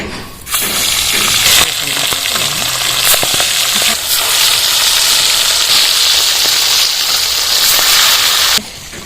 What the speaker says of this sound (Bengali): তেলটা গরম হয়ে গেছে এবার মাছগুলো ছেড়ে দেবো